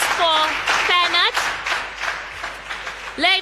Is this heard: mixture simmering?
no